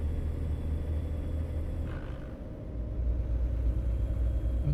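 A heavy truck engine in American Truck Simulator rumbles steadily at low pitch, a continuous drone that dips briefly midway and then swells back up, with no talk over it.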